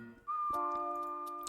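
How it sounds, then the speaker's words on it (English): A bright sustained whistle tone from the Animal Crossing New Leaf video game holds steady for over a second, with a lower harmonic tone layered beneath and a few faint clicks. "as the game whistles at us."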